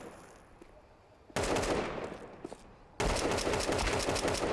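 Video game gunfire in a competitive duo tournament match, first faint then two abrupt loud bursts of sustained rapid shooting that fill the clip, dense and continuous with no talking.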